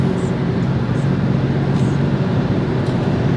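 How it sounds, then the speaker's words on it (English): A 2010 BMW 535xi drives along a road, heard from inside the cabin as a steady low engine and road drone with broadband rumble, continuous and even throughout. "But the car is driving good"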